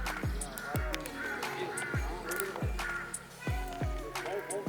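Crows caw repeatedly in an outdoor setting in Shimla, a series of harsh calls roughly every half second to second, fairly close, with people talking underneath.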